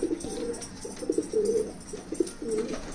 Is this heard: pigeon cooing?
yes